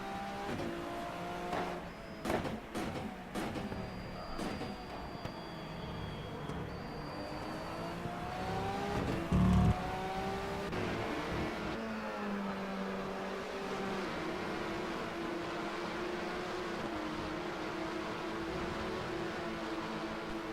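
Race car engine in a GT3 endurance race, running through a long multi-apex corner at turn 8 among other cars; a steady, loud engine drone with shifting pitch and a brief louder burst midway, no talk.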